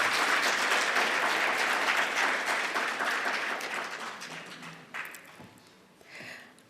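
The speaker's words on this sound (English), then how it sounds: "I would want us to give her another round of applause" An audience at a formal conference applauds a speaker, a loud dense round of clapping that gradually fades, ending in a few scattered claps.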